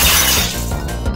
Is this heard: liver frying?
no